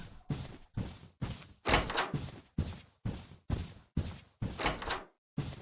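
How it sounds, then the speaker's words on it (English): A loud knock sequence at a door in the video game Lost Room: about eleven heavy, thudding blows in uneven clusters, close and forceful, with short gaps of silence between them. "Then it's going to be a loud knock."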